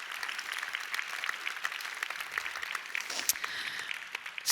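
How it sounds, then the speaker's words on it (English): Audience applause at the opening ceremony of WABF 2021, a faint, distant patter of clapping with scattered sharper claps, steady across the moment. "please join in an applause for you, for the work you're doing"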